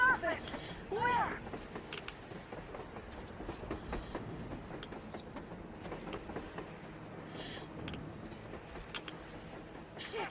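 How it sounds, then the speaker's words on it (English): A train rumbles on the surface in the Metro video game, a steady rolling clatter with rhythmic wheel clicks and rustling, fairly distant and continuous. "A damn train on the surface!"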